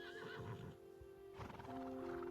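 In a medieval-styled video game, a horse gives a long whinnying neigh over a steady game soundtrack, with hooves clip-clopping beneath it. The sounds are close and clear, and nobody speaks.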